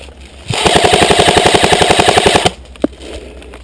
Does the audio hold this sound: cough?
no